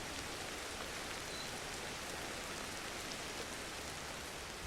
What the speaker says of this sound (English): Just until the rain stops.